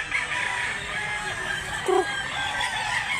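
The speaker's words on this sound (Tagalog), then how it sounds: "Napakagandang manok." A rooster crows faintly in the distance against a hissy outdoor background, with a short clucking note midway.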